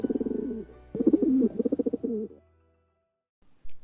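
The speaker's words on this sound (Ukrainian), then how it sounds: "Голуб це символ любові, вірності та миру." A pigeon coos nearby in a rhythmic series of soft, throaty calls, then pauses and starts another phrase, with quiet background between the bouts.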